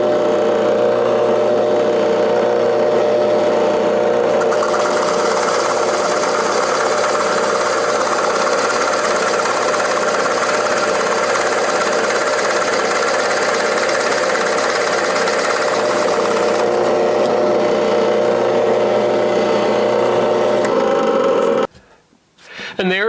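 A loud, steady power drill with a Forstner bit grinds into wood continuously for about twenty seconds, its motor whine holding even before cutting off abruptly near the end.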